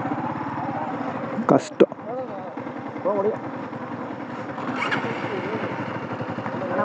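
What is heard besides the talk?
motorcycle engine running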